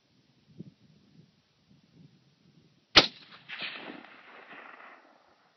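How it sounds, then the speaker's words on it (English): A single loud crack from a Howa 1500 rifle in .308 Winchester fired at long range outdoors, with a long rolling echo down a canyon; faint movement precedes the shot. "I'm gonna shoot a couple more."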